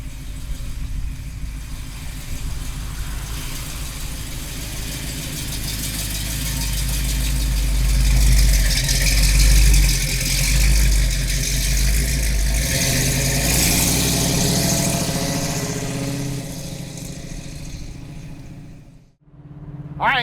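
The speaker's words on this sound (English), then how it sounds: "Listen to that exhaust." A 1969 Chevrolet Camaro muscle car engine and exhaust, a deep steady rumble that swells as it revs up midway, then drops off abruptly near the end, loud and close with no talking.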